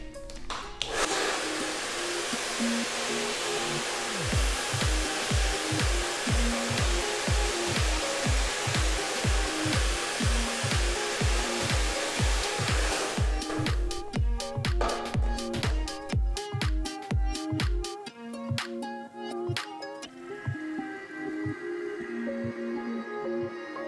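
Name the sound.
hair dryer blowing on hair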